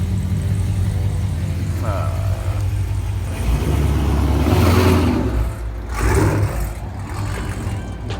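A car engine revs up loudly and then eases off, with some background voices and traffic noise around it.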